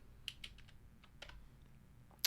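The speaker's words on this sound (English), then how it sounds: "And I just type in a new name" Typing on a computer keyboard while renaming a Trello board: a few quick, light key clicks in short bursts, close and fairly quiet, with a sharper tap at the very end.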